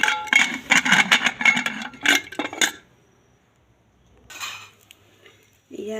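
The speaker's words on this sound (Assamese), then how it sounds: "ঢাকনিখন দি দিম এতিয়া।" A pressure cooker lid is handled and set in place, with a run of close metallic clanks and scrapes followed by quieter knocks and near silence.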